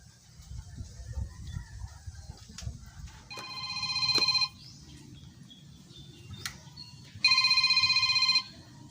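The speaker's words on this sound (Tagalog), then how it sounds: "Tatawagan ko muna si Lamela" A telephone ringback tone sounds during an outgoing call, two electronic ring bursts a few seconds apart, each lasting about a second, heard close over a low background rumble with faint chirps.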